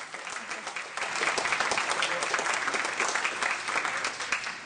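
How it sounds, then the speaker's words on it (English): A room of people on the Senate floor claps for a long-serving staff member named Gloria, the dense applause swelling after a second and holding steady and loud throughout. "Big round of applause for Gloria."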